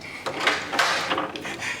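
A wooden door opening with clattering, rattling knocks and a creak, loud and close, in an Ottoman-era setting, with someone shouting nearby.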